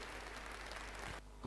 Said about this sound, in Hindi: एक गड़गड़ाती तालियों के साथ आप इसका सम्मान करेंगे।